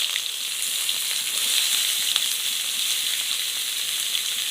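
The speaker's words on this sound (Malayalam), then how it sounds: "ആദ്യം ഒരു സവോള അരിഞ്ഞത് എണ്ണയിലിട്ട് ഇടുക." Chopped onion frying in oil for a samosa filling, a dense, even sizzle that holds at steady loudness throughout with no talking.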